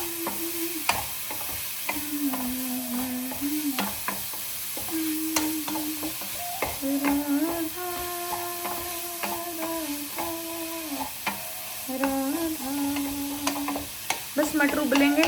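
Gobhi matar keema stir-fried in a pan with a light, steady sizzle and repeated scraping clicks of a ladle stirring, under recurring tonal background music.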